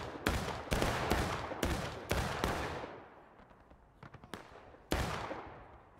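Muskets fire in War of Rights, a multiplayer American Civil War game, on a wheat-field battlefield. A series of sharp, loud cracks roll out across the field with long echoing tails, followed by scattered fainter distant shots and one more loud report.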